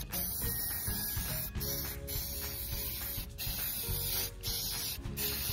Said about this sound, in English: what I'm doing is I'm spray painting them black